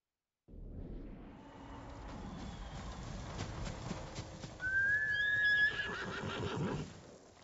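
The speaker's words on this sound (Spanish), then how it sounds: "Eres un buen caballo, ¿no?" A horse in the Ghost of Tsushima video game whinnies loudly once midway, over a steady bed of hoof clip-clops and windy ambience from stormy weather.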